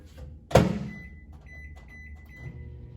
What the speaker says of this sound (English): we're definitely going to add that into the microwave again